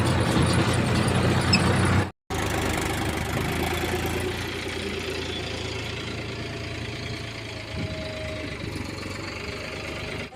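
A tractor parked in the dark near a cremation ground runs with a steady, continuous engine drone throughout, broken once by a brief cut near the start, with no voices.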